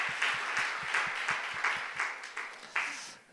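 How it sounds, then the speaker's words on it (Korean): A church congregation at a prayer meeting applauds in a steady wash of clapping, with a few louder rhythmic claps punctuating it, gradually thinning out toward the end. "하나님께 우리 감사와 영광의 박수 올려드렸으면 좋겠습니다."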